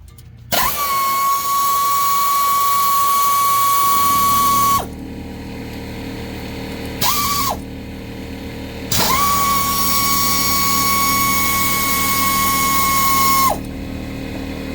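An impact tool works the 14 mm upper and lower brake caliper pins on a 2019 Lexus RX 350, giving loud, steady high-pitched whines in three long bursts with a short burst between, and a low hum in the gaps.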